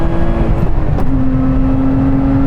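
A Lotus Emira sports car launches hard, its engine droning loud and close with a sharp break at a gear shift before the tone settles and keeps pulling.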